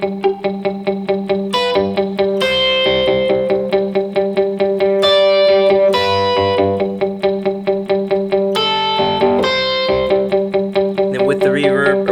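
An electric guitar for worship leading is played clean with no effects, sustained chords and picked notes ringing steadily up close at a strong level.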